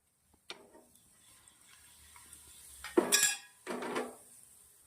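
Dry spices drop into hot mustard oil in a pan with two bursts of crackling sizzle, after a light metallic clink and a quiet lead-in, with no talk.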